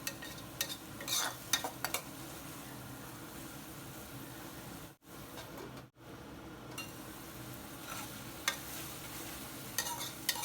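Okra and tomato curry being stirred in a pan, with a steady close sizzle and repeated scraping, clattering strokes of a spatula, briefly stopping twice before carrying on.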